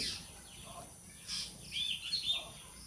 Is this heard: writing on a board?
no